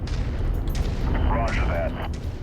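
Gunfire and explosions in the video game Kestrel Lancers, with loud bursts and booms piled over a dense battle din while voices speak over the fighting.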